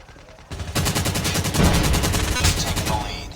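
Rapid automatic gunfire rattles loud and close in Call of Duty: Mobile, a fast regular burst of shots following a brief quieter lead-in, with faint game voice callouts mixed in.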